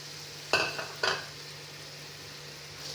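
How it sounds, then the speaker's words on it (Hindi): Food being fried in ghee in a pan gives a faint steady sizzle, broken by two sharp metallic clinks of a utensil against the pan near the start. "इसको 2 से 3 मिनट तक भून लेते हैं अच्छी तरह"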